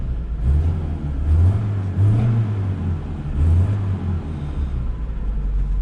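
The engine of a vintage 1968 BMW 1602, running with a slight miss, hums from inside the moving car, rising and falling in pitch through several revs as it drives.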